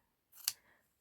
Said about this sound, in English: Trim those edges off, also at a bit of an angle.